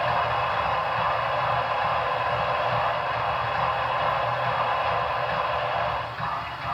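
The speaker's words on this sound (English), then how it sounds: "So there's also sounds like blowdown on F5." An N scale Broadway Limited N&W 611 Class J model steam locomotive's sound-system blowdown gives a loud, steady hiss of escaping steam that runs unbroken for several seconds, then dips briefly at the end.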